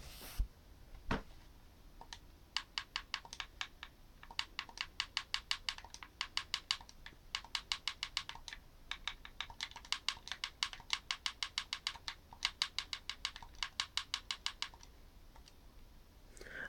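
Fast typing on a computer keyboard, bursts of rapid, crisp key clicks with brief pauses between runs, moderately close and fairly quiet, with no talking.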